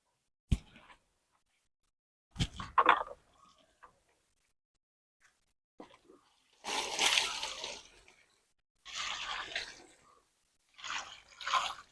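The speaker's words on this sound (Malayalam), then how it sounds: "എന്നിട്ട് നമുക്കൊന്ന് നനച്ചു കൊടുക്കാം" Water poured over a newly planted air potato vine in a garden bed, heard as a few bursts of splashing and dribbling, each a couple of seconds long, separated by quiet gaps and a few light taps.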